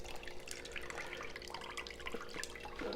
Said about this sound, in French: pour vider l'eau.